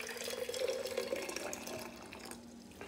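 Hot water from a kettle pours into a Stanley food jar, giving a close, continuous splashing trickle that rises in pitch as the jar fills, then thins out and stops.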